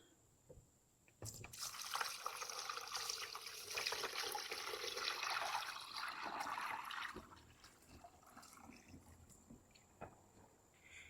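Liquid is poured into a tiered filter with gray discs in each tier, a faint close splashing trickle that begins abruptly, runs for several seconds, then tapers into scattered drips.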